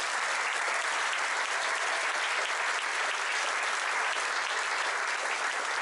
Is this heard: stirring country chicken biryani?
no